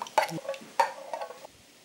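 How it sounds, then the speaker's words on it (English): A warm tallow mixture thickening into paste in a pot is stirred for a Victorian-style dark tan boot polish, making two quick scraping strokes against the vessel, close and fairly quiet, then falling silent. "Give that a bit of a stir."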